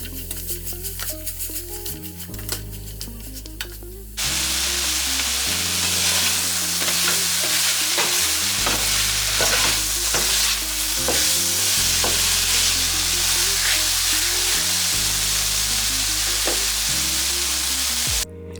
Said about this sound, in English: Cook until the onion becomes translucent and the tomato breaks down and becomes saucy